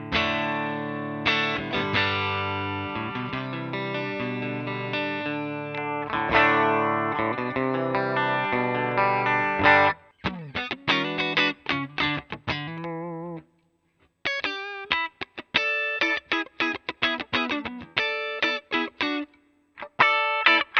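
An electric guitar played through Fractal FM3 live presets gives distorted, chorus-laden chords and riffs, first sustained and dense, then choppy stabs and single-note bursts separated by brief silences.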